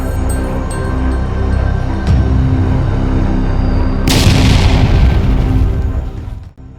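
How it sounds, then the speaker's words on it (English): A deep, loud boom erupts partway through as an FPV loitering munition strikes a BMP armored vehicle. A heavy rumbling blast follows over steady background noise, then cuts off. "The resultant explosion engulfed the vehicle in flames"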